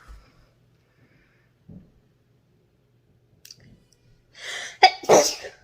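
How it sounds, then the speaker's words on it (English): A woman sneezes once, loud and close, after a few quiet breaths and small sniffs in an otherwise silent room. "I'm gonna sneeze."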